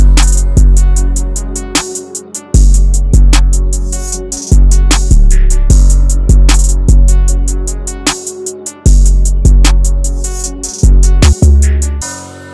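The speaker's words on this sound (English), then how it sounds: "I added a reversed open hat." A hard ambient FL Studio beat plays alone and loud, with punchy deep kicks, a steady driving drum pattern and a sustained melodic bed, with a swelling reversed open hi-hat tucked in as brief ear candy.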